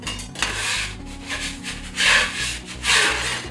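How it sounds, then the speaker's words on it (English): A pastry scraper scrapes and rubs across a work surface while lifting gluten-free pie dough, making repeated close, gritty rasping strokes in an uneven rhythm. "I'm using my scraper just to help lift things up a little bit."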